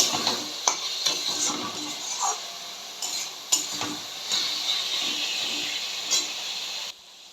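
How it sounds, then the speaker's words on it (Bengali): Diced potatoes stir-fried in a pan for a Bengali mochar ghanto, with steady sizzling broken by repeated scraping stirs of a spatula, close and moderately loud, ending abruptly. "আলুটা এখন একটু ভালো করে কষে নিতে হবে"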